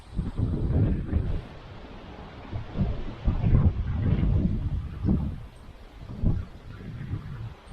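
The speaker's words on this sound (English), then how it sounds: "So the wind has really picked up." Strong wind gusting across an outdoor microphone beside a beehive, a heavy low rumble rising and falling in repeated buffeting surges for the whole stretch, with no other clear sound.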